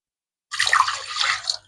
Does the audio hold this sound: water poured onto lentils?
yes